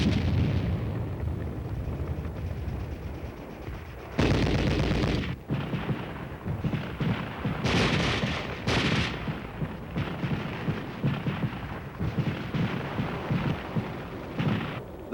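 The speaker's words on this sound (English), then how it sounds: "Instead of just sitting and listening to the shells passing overhead, the unit engages in a tactical problem." Artillery shells and gunfire crash across a combat training field, a steady rumble broken by loud blasts and bursts of shots, some close and sharp, others distant.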